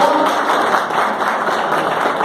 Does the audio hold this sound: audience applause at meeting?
yes